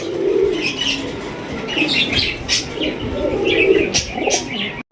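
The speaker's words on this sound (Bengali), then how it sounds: "এখানে রয়েছে দুই জোড়া কবুতর" Pigeons coo close by in soft, rolling bursts, with small chirps and a brief flutter of wings; no voices.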